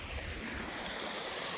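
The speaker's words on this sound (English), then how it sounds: "this is the Fox Creek over here" Fox Creek in Alaska flowing steadily, a soft continuous wash of moving water heard faintly and evenly throughout, with no voices over it.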